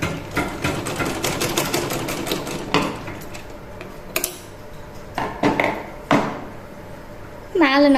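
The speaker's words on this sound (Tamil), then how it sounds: "இதை கனெக்ட் பண்ணி இப்படி ஒரு தையல் போடுறேன்" A sewing machine stitches fabric in quick rattling bursts, with pauses and clicks of handling between runs, close by and fairly loud, with a short squeak near the end.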